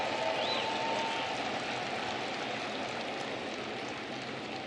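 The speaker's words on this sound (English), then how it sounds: "Nice applause for Jose Iglesias" A baseball crowd applauds Jose Iglesias, a former Tiger, at an Angels versus Tigers game, a broad, even wash of clapping from the stands that holds steady for several seconds and slowly eases.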